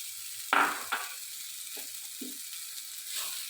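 Spice powders tipped into hot oil in a pan for a seer fish (neymeen) curry, giving two sharp, close sizzling bursts that settle into a quieter, steady frying hiss, with no one talking.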